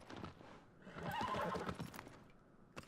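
A horse in the video game Shadow of the Colossus lets out a loud, shaky whinny that swells and fades over about a second, with light hoof clip-clops before and after.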